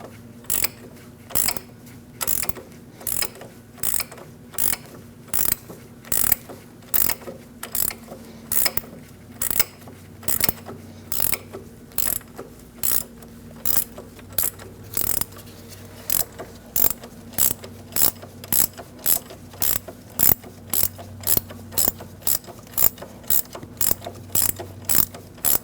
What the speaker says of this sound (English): I'm going to get my ratchet wrench and take the nut off the rest of the way.